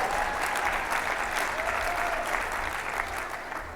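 Sustained applause from a conference audience during a keynote at a speakers' association event, fairly distant and steady, easing slightly toward the end.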